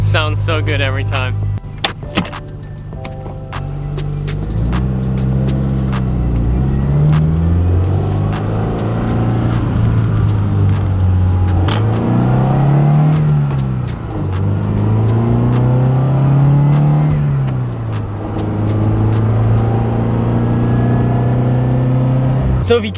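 A Subaru BRZ accelerates and cruises, its engine note rising and falling in repeated sweeps as it pulls through the gears, loud and close from inside the car with steady road rumble underneath.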